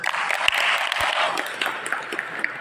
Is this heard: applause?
yes